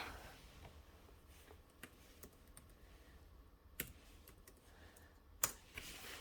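Someone types a search on a computer keyboard, giving a few sparse, light key clicks over a quiet background.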